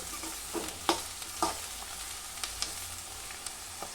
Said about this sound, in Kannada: ಎಲ್ಲ ವೆಜಿಟೇಬಲ್ಸ್ ಎಲ್ಲ ಆಯಿಲಲ್ಲೇ ಫ್ರೈ ಮಾಡ್ಕೋಬೇಕು.